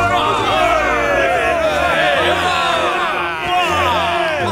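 A crowd in the Dragon Quest 11 video game cheers and calls out in a dense, continuous mass of voices, loud and close, with whoops rising through the babble.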